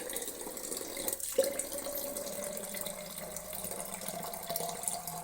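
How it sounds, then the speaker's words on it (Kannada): Hot water runs steadily from a tap into a sink, a continuous hissing splash with a brief gurgling dip partway through, close and fairly quiet, with no talking. "ಅದಕ್ಕೆ ಇವಾಗ ಬಿಸಿಗೆ ಬಿಸಿನೀರು ಹಾಕೋಣ ಅಂತ ಹಾಕ್ತಾ"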